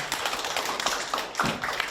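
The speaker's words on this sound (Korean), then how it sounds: "다시 한번 큰 박수 부탁드리겠습니다" An audience applauds after a lecture at an academic forum on poetry and photography, giving a dense, steady wash of clapping from many hands that holds at an even level throughout.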